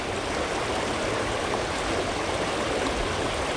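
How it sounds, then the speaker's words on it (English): A whitewater stream flows in shade near Murfreesboro, giving a steady, close, broadband rush of water with no breaks and no voices. "I'm in knee-deep water in the shade in Murfreesboro, fishing whitewater."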